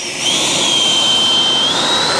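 Freewing RC jet plane spooling up for takeoff, a loud steady high-pitched turbine whine that swells quickly and holds at full power for a couple of seconds.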